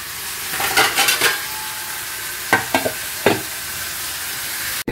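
Leftover food is reheated in a pan on a home stove, giving a steady low sizzle with a few clattering spatula scrapes in two short bursts and no talking.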